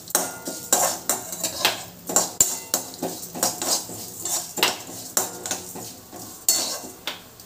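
Fenugreek and cumin seeds dry-roast in a little oil in a pan over low flame, with a utensil stirring and scraping in steady, repeated metallic clinks close by and no talking.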